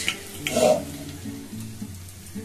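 Chilli chicken masala fries in a pan with soy sauce, turmeric and red chilli powder, a soft steady sizzle with a brief louder stirring burst near the start.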